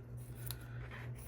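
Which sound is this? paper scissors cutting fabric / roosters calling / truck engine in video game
paper scissors cutting fabric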